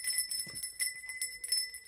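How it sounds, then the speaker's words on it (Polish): A small gong or chime hanging at a stork-nest cabin rings with sustained bright metallic tones, several soft strikes blending into a faint shimmering ring, quiet and alone. "Tutaj mamy gong."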